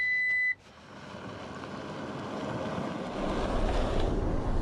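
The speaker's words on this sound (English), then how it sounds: "here we are driving in this Lexus LX 600" A 2023 Lexus LX 600 luxury SUV drives along, a steady broadband road and wind rumble that grows gradually louder, following a brief tone and a sharp drop at the start.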